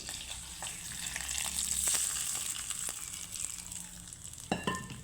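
Curry leaves and black mustard seeds frying in a spoonful of oil, heard as a faint, crackly sizzle with scattered pops and light clinks, growing sharper near the end.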